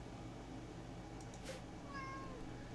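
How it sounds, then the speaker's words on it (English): A cat gives a short, faint meow at close range over a constant low background hum, with a soft thump just before it. "Meow, meow, meow."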